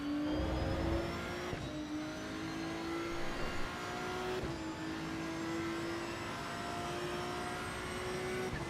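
A Mustang's engine in the racing game Assetto Corsa EVO drones steadily and loudly, its pitch climbing under acceleration with brief dips at gear changes.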